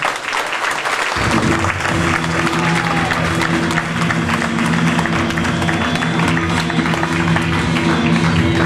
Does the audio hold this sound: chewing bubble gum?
no